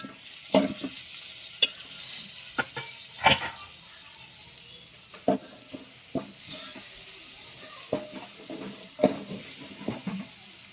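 Dal is stirred in a pot, heard as intermittent sharp clinks and scrapes against a soft sizzling background. The spoon strikes come every second or so, close and distinct.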